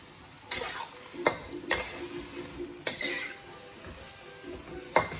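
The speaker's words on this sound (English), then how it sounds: "Gonna start sizzling again." Beef sizzles in a hot pan for lomo saltado with cumin, with a steady frying hiss broken by several sharp clanks and scrapes of a utensil stirring against the pan.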